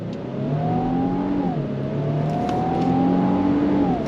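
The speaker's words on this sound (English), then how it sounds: "I'm gonna go on throttle from a dead stop." 2025 Infiniti QX80 full-size luxury SUV with twin-turbo V6 accelerating from a dead stop, heard from inside the cabin as a smooth rising engine drone that shifts pitch at gear changes over steady road noise.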